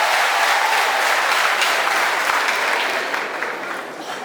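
Sustained audience applause at a church choir gathering, a dense steady wash of many clapping hands that thins slightly toward the end, with no talk over it.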